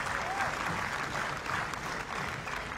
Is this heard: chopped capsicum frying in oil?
no